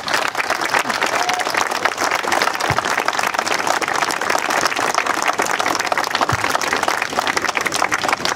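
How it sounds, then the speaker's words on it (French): Sustained, dense applause from a festival crowd at the opening ceremony of an associations' fair, loud and steady throughout without a break. "je vous demande d'applaudir les futurs artistes qui vont monter, mais aussi, je vous demande d'applaudir vos associations"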